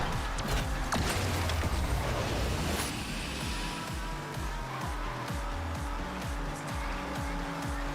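A racing car drifts in the Asphalt Legends Unite video game, engine revs stepping up and down through gear shifts under a constant loud roar, with tire noise and a brief scrape partway through.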